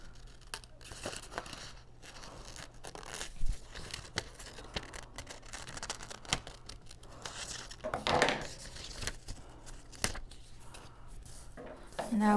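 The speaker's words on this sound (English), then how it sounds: "I'm going to cut out the ears" Scissors snipping through paper, cutting out unicorn ear shapes for an origami corner bookmark, with close, crisp crinkling and rustling that runs continuously and includes a few sharper snips.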